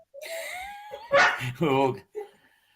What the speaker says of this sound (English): You know why the dog's going berserk, Lovey?